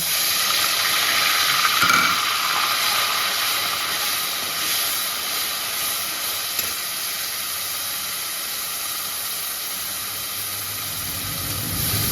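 Bay leaf dropped into hot oil for a Bengali giant freshwater prawn malai curry sizzles with a steady, loud, even hiss that holds for the whole stretch, with no voices.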